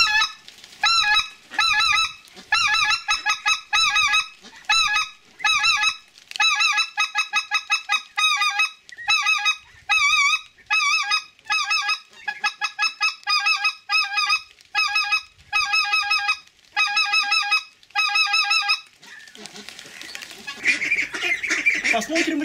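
A Schoolhunter Dominator mouth call blown to imitate white-fronted geese gives rapid, loud, clear honking yelps in repeated bursts with short pauses, ending with a rush of breath and rustle.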